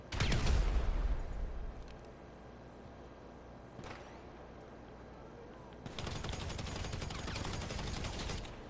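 Gunfire in GTA Online opens with a loud burst, then a lone sharp crack after a quieter stretch, and ends in a sustained rapid rattle of automatic fire, with some talk in the mix.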